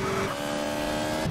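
An NRG-500 sport motorcycle engine in GTA San Andreas Definitive Edition drones with a steady high-pitched whine, holding a continuous tone that shifts slightly in pitch near the end, loud and alone.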